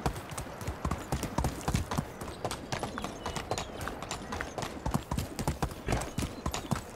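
A ridden horse gallops in the game Medieval Dynasty, a fast, loud, continuous drumming of hoof beats over a busy outdoor background, with no talk.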